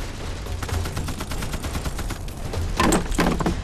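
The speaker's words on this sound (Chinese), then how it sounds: "鬼子炮楼里有机关枪" Rapid machine gun fire from a Japanese bunker in a Chinese war drama, a dense continuous rattle of bursts with low booming underneath, loud and sustained throughout.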